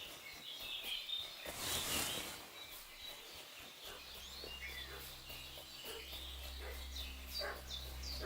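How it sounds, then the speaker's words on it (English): A dog barking in the video game Kingdom Come Deliverance II, a few distant barks amid outdoor birdsong and insect chatter, with a low rumble joining partway through. "What's that dog making such a fuss about?"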